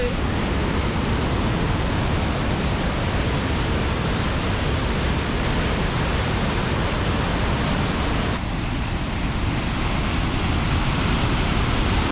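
A waterfall in Montenegro, swollen after days of rain, gushes out of a cave in a loud, constant roar of rushing water that fills the whole scene without letup.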